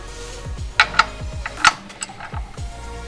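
A hand ratchet snugs the drain plug on a BMW oil pan, giving a few close, crisp clicking pulls with brief pauses between strokes and no voices.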